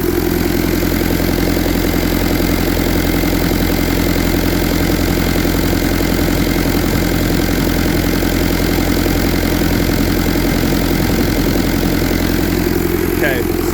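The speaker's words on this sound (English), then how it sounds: "let me show you what that looks like" A Kubota diesel swapped into a Willys Jeep idles at roughly 1,100 to 1,200 rpm, a loud, close, even rumble that holds steady with no change in pitch the whole way through.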